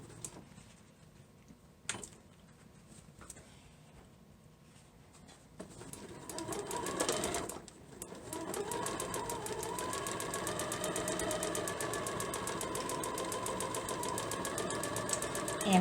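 A sewing machine stitches a 1/4 inch seam on a market tote bag. Faint handling comes first, then the machine starts up into a steady rhythmic whirring chatter that runs on without stopping, close by.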